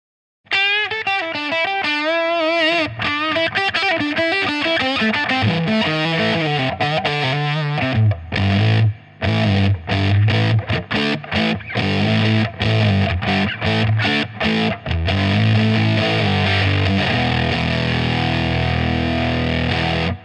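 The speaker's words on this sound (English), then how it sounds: "That's the really cool spitty fuzz sound" Electric guitar through an MXR Super Badass Fuzz pedal, buzzy and spitting, playing loud riffs before settling into thick, sustained distorted chords.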